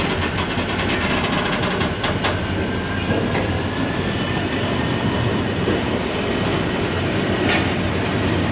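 A Karachi Circular Railway local train departs and runs, giving a loud, close, continuous rumble with rhythmic clickety-clack from the wheels and a faint whine, and no talk.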